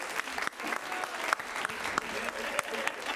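Sustained audience applause with scattered sharp claps and a few whoops at a J Names show, steady and fairly close throughout.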